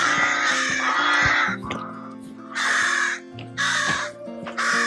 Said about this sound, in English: we're getting a warm welcome this morning by the crows. God, they're so vocal.